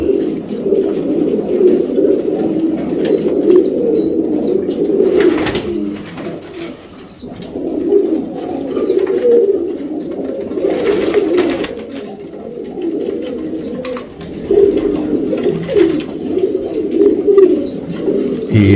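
Pigeons coo repeatedly in a loft or coop, a steady murmuring chorus of soft rolling calls that carries on throughout, with faint higher chirps over it and no talking.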